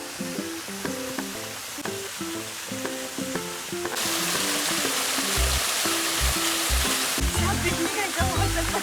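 A small waterfall in a farm field roars as steady broadband rushing water, close and loud, strengthening partway through, with faint low thumps and no clear talking.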